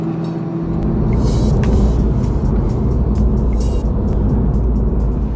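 Porsche 718 Cayman driving on the road, a loud steady engine and road rumble with tyre roar, constant throughout and close to the car.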